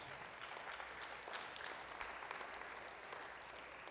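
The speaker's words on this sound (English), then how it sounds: "Give him a hand clap of praise." A church congregation claps steadily and continuously in praise, a dense patter of applause heard from some distance at low volume.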